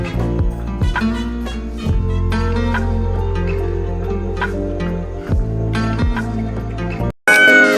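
Cat meows sung within a Hindi children's rhyme over steady musical backing, with repeated meow syllables across the passage and a brief break near the end; the meows are likely a voice imitating a cat.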